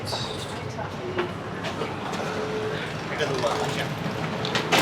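Rumbling train noise in a station at Butterworth, Malaysia, with mechanical clatter and hiss; people talk faintly in the background throughout.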